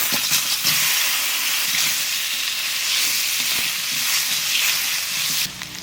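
Potatoes fry in oil left over from frying fish, giving a loud, continuous hiss and sizzle that stays steady throughout and drops off sharply near the end, with no voices.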